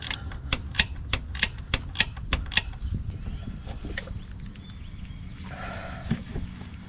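A Jeep XJ transfer case shift linkage is turned by hand, giving a close series of sharp mechanical clicks like a ratchet in a quick rhythm, then fainter rattling and scraping of parts.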